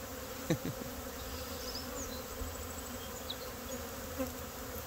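A honey bee swarm fanning and marching into a hive outdoors, heard as a steady, soft insect hum with occasional individual bees buzzing past close by, fairly faint and without talking.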